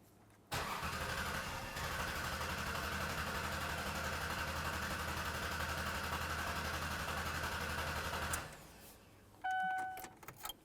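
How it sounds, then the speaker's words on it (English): A Ford Taurus engine cranks over and catches, then runs at a steady idle for several seconds before shutting off, followed by a few faint clicks and a short whirring burst near the end. "now you're going to crank over the vehicle"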